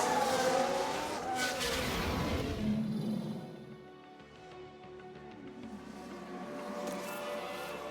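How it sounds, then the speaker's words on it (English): A race car spinning out in F1 Manager 2022, with a loud engine roar and tyre screech sweeping past, fading to a quieter hum of distant cars before engines build again. "Sounds like a spin."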